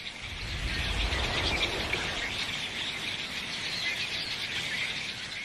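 A flock of redwings wheels together in unison, giving a dense, continuous wash of high chirps and rustling at moderate distance, steady throughout with no voices.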